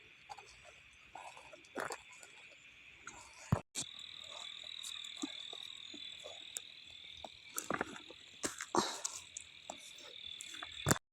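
Frogs croaking at night after the season's first rain in rural Laos, a steady high insect-like trill underneath with scattered nearby croaks and clicks throughout, fairly faint and no talking.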